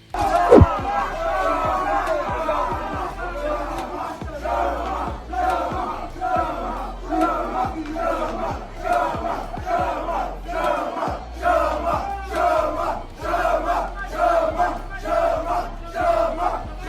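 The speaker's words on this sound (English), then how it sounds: "ESPN MMA has released a hilarious clip showing Team Pereira chanting" Team Pereira, a mixed martial arts fighter's camp, chants and claps backstage after a win. Loud rhythmic group shouts repeat in a steady call pattern with clapping throughout, and a crowd murmurs underneath.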